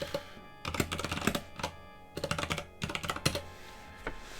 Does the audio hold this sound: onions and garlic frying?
no